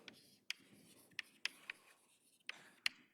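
Chalk or marker strokes on a board during a mathematics lecture, several sharp scratchy taps at irregular intervals, quiet and close, with no talking.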